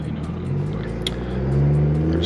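A BMW B58 engine pulling in 4th gear from about 2500 to 4000 RPM during a log run, a loud, close in-cabin drone whose tone climbs steadily as the engine revs rise.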